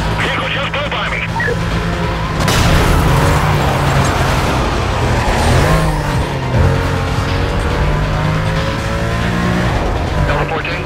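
A car speeds past in the video game Need for Speed Most Wanted, a loud engine roar with tire noise under steady radio-style talk.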